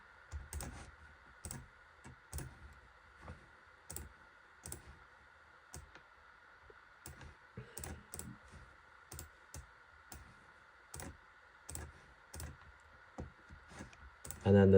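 Keys clatter on a computer keyboard as a short note is typed, a quiet, close series of irregular clicks in small bursts separated by brief pauses.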